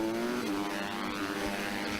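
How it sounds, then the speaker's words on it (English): Pit bikes and Honda CRF 150 motorcycles race at Llandow, their engines droning and revving steadily as a pack of bikes stays close and loud for the whole stretch. "So this race is the Pit Bike Open and Honda's CRF 150s"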